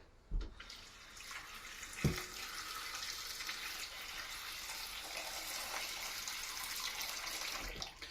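Water pours steadily into a pot of cut potatoes being prepared for homemade French fries, a continuous close splashing gush with a couple of sharp knocks against the pot near the start and end.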